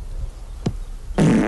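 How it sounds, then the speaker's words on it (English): A fart sound effect from a children's cartoon: a short squeak followed by a loud, sustained, broad blast lasting a few tenths of a second. "Just make sure your wind isn't a fart!"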